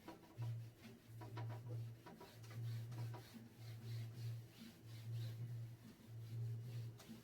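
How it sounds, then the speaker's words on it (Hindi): A diagram is rubbed off a classroom board during a physics lesson, a steady repeated scraping rub in short strokes, close and moderately loud, with no talking. "डायग्राम को हम यहां से रब कर दे रहे हैं"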